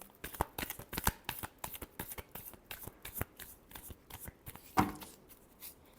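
Tarot cards shuffled by hand in a steady run of close, crisp riffling flutters, with one sharper snap near the end.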